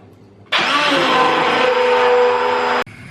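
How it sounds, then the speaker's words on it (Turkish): A blender pureeing chicken and lentil soup roars on abruptly, whirring at a constant loud pitch for about two seconds, then cuts off sharply. "Şimdi çorbamı blenderdan geçirdim."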